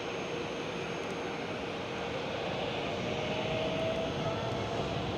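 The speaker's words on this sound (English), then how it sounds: "737 arriving as well." A Boeing 737 arriving at Amsterdam Schiphol gives a steady, fairly distant jet roar that stays even throughout, with no voices.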